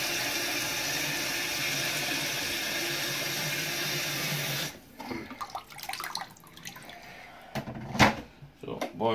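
Water runs and pours steadily for several seconds while measuring half a litre for home-brewing dark ale, then cuts off abruptly, followed by someone talking amid light clatter and clinks.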